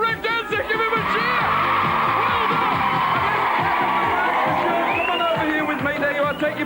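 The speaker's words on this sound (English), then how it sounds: "Give him a cheer!" A 1984 television game show studio audience cheers and whoops loudly for a winner, a sustained wall of crowd noise with shouts and whistles throughout.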